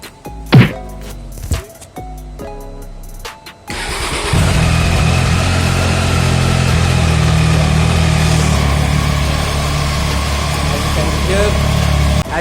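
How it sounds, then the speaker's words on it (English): Triumph Tiger XRX 800 motorcycle: a few short starter and engine bursts with someone talking, then the engine catches and settles into a loud, steady close idle. "let's just fire up this bike. Trust me, it's really awesome to hear."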